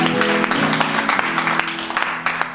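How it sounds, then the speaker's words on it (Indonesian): Congregation applauding during a church service, a dense, steady wash of hand clapping throughout with sharper individual claps standing out. "Tepuk tangan buat Tuhan kita."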